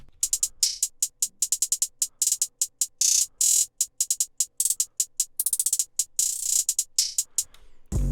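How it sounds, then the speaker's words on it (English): Crisp hi-hats tick in a steady pattern broken by rapid triplet rolls and stuttering bursts, loud and dry with no other instruments. "it's just a normal two-step hi-hat pattern"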